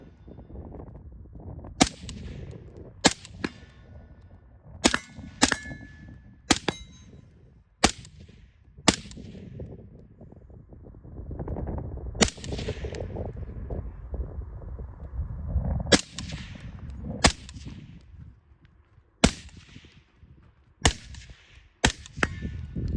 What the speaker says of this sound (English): we're gonna shoot that for distance, transition to the red dot for up close